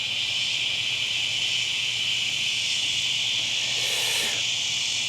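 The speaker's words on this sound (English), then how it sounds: "I don't know if y'all can hear the cicadas." Loud cicadas outdoors make a continuous, even, high-pitched drone that fills the whole stretch, with a brief faint extra sound near the end.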